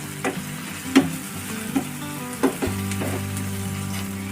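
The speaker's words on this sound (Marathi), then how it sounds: "दोन मिनटं व्यवस्थित असा मसाला फ्राय करून घ्यायचा" Paneer masala with chili powder, chutney and ground paste fries in a pan, a low steady sizzle broken by several distinct scraping taps of a spoon stirring the mixture.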